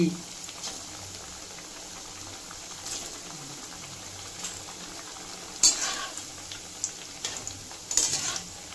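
Small semolina pitha (malpua-style) frying and sizzling in hot oil in a pan, a steady low crackle with occasional stirring clinks, fairly quiet and close.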